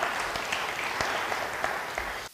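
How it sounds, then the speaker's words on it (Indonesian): A church congregation claps at a service, a dense, steady wash of applause at moderate level that fades out abruptly at the end. "Yang percaya beri tepuk tangan bagi"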